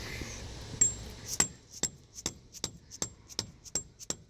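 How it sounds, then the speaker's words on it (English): A dead blow hammer taps an axle nut on a 1996 Ford Explorer during left axle seal work, about ten sharp, evenly spaced knocks landing roughly every half second, close and clear with no voices. "I did take the dead blow hammer"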